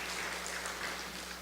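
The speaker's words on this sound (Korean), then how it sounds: "손을 올려서 한번 박수로 축복해 주세요." Brief burst of applause from a church congregation during a Sunday service, dense and continuous clapping filling the room.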